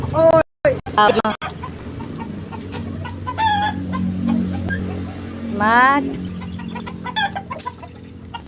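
Several chickens cluck and squawk nearby in repeated bursts, with a rooster-like call, while a person speaks briefly at the start.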